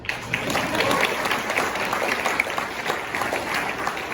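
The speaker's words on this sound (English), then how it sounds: "You can clap." A crowd claps at an end-of-season high school girls' sports banquet, with many individual hand claps merging into a brisk, fairly close round of applause that runs steadily for several seconds.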